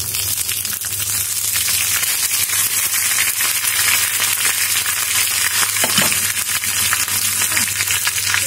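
Curry leaves sizzle and crackle in hot oil for a Trivandrum-style fish curry, a loud, continuous frying hiss close up, with no voices.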